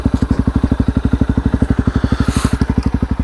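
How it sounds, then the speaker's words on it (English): A Honda CRF250L single-cylinder motorcycle idles and turns around in snow, its engine thumping in a fast, even pulse close by, with faint clatter above the beat. "I'll turn the bike round and go back."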